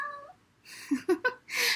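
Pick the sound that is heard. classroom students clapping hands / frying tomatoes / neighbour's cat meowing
neighbour's cat meowing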